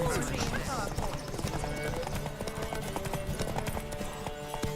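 Roach, a horse in The Witcher 3 game, gallops with rapid, loud clip-clop hoofbeats that run continuously, mixed with voices and other game sounds.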